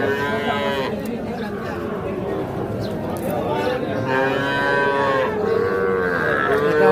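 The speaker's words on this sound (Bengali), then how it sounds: "এটা হচ্ছে 4 মাস বয়স হবে, শাহিওয়াল ষাঁড় বাচ্চা" A four-month-old Sahiwal bull calf at a busy cattle market gives several long, drawn-out moos, loud and close, over constant crowd chatter and people talking.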